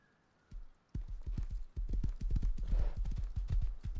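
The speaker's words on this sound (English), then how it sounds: "It's a horse. Do you like my horse?" Horse hooves clip-clop in a steady, fairly loud rhythm in the video game Rust, starting after a brief quiet moment and continuing without speech.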